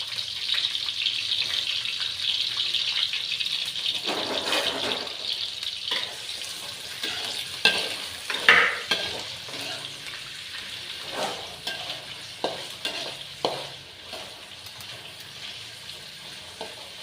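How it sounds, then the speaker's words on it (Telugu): Chopped onions frying in hot oil for a chicken curry, a continuous close hissing sizzle broken by occasional stirring scrapes and clinks against the pan, with no talking. "ఆయిల్ వేడెక్కాక కట్ చేసి పెట్టుకున్న ఆనియన్స్ వేసుకొని ఫ్రై చేసుకోవాలి"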